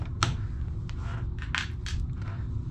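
Thermostat wires are snipped during a walk-in refrigerator digital thermostat upgrade, giving a few quiet, sharp clicks and crunches spaced irregularly over a low background hum.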